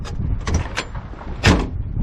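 Doors of an old car are opened and shut, giving a few sharp metallic clunks and latches over rustling background noise, with one louder slam near the end.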